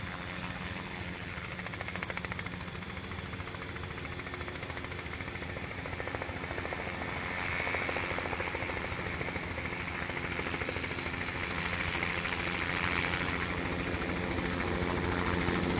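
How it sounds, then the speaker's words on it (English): Helicopter working a firefighting operation, a steady dense rotor and engine roar that runs unbroken and fairly loud throughout, growing slightly stronger toward the end. "You can see the helicopter coming in now"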